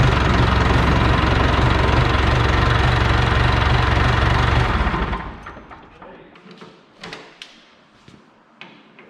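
A small hydrostatic tractor engine runs with a loud, steady idle after an oil fill, then shuts off abruptly about halfway through, followed by quiet clicks and knocks.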